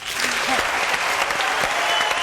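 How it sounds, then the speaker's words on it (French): Studio audience applause on a French television show, a loud, dense clapping that runs unbroken through the short stretch. "Applaudissements pour madame le branché."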